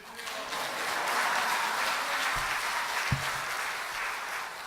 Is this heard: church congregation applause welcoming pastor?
yes